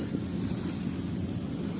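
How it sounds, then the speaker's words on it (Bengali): A continuous low roar of ocean surf and wind at night, steady and enveloping, with gusty rumble buffeting the microphone and no voices. "একদিক থেকে সমুদ্রের গর্জন"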